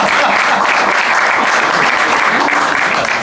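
A theatre audience at a mentalism show breaks into full applause, a thick, continuous roar of many hands clapping at once, loud and steady throughout with no voices on top.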